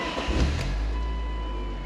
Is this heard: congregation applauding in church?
no